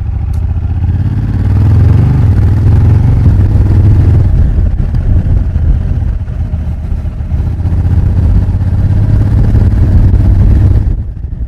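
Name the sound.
Honda Africa Twin motorcycle exhaust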